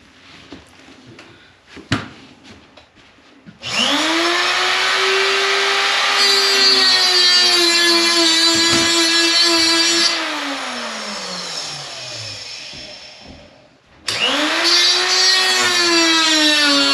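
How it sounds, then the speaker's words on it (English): A power tool working screws out during trailer work, two long loud whirring runs with a winding pitch that climbs and falls, separated by short pauses and handling knocks. "Trying to get screws out."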